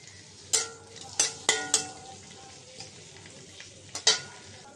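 Onion and green chili fry lightly in oil in a wok, a soft steady sizzle punctuated by several sharp metallic stirring scrapes and clanks.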